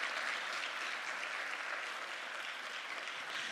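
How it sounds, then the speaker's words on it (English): An audience at an anti-bullying school event applauds its teachers with steady, even clapping from many hands. The applause sounds somewhat distant and holds at a constant level throughout. "Let's welcome, with a round of applause, the hardworking teachers who accompanied you today."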